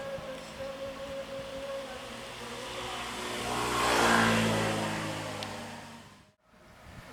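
A bus engine drones past, growing louder as it nears, peaking close by midway, then fading away over a steady background rumble.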